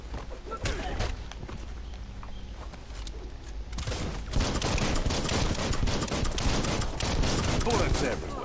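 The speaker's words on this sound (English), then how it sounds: "Bullets everywhere." Gunfire in the Biomutant action game, rapid bursts of shots rattling through a tunnel, sparse at first then growing louder and denser in the second half, with a voice talking over it.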